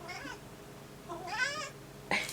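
A house cat meows for attention, three separate rising calls spaced apart, fairly close and clear over a quiet room.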